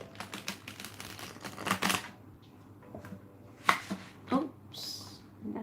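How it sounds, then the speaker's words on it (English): A deck of tarot-style cards is shuffled close up in a quiet room, giving several soft riffling bursts and brief clattering flicks spread across the moment, with no talking. "that was a bad shuffle"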